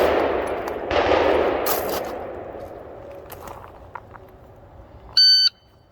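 Three rifle shots fired against a timer ring out outdoors as sharp cracks with echoing tails, spaced about a second apart, followed by a short electronic timer beep near the end.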